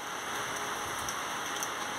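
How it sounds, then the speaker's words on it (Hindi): Light rain falls outdoors in a soft, even, continuous patter that is faint and steady, with no voices. "हल्का हल्का अभी बारिश हो रहा है, बारिश स्टार्ट हुआ स्पीड, लेकिन फिर भी कम हो गया है"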